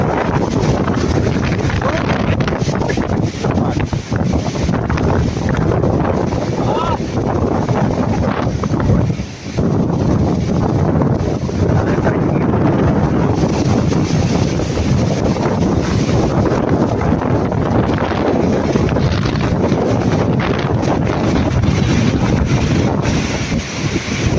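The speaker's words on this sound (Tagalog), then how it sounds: "Ano, matatangay tayo ng hangin." Strong typhoon wind roars and buffets the microphone continuously, a loud, rough blustering that barely lets up for the whole stretch.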